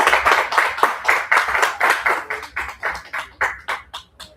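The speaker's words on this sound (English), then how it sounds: "Let's give a big, big round of applause to Shali" An audience at a poetry event applauds the poet Shali, bursts of clapping in a strong rhythm that stay close and loud and then thin toward the end, with no voices over them.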